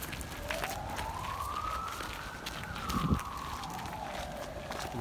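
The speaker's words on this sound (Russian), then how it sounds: "Какая сирена в средневековье?" A single siren wail rises slowly and falls again in Prague, distant and moderately faint, over steady background noise.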